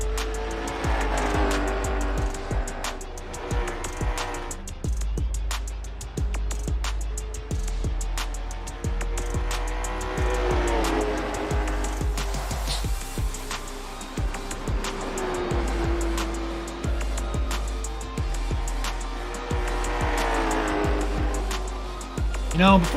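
A late model race car practices on an asphalt oval, its engine droning loudly and steadily with rising and falling pitch as it laps, while a commentator talks over it throughout.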